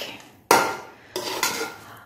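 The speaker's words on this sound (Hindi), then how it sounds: "अब हम करते हैं इस सारे मिक्सचर को मिक्स अच्छे से।" Grated carrot halwa mixture being stirred in a pan, with two or three bursts of scraping and clinking against the metal separated by brief pauses; close and fairly loud, with no talking.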